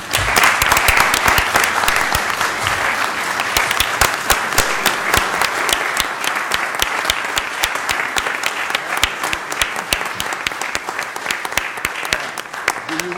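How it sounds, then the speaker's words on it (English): Sustained applause fills a county commission meeting room, a dense steady patter of many hands clapping at fairly even loudness for over ten seconds. "let's give her a round of applause"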